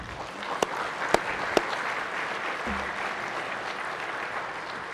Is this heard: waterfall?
no